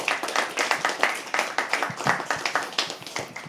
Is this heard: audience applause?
yes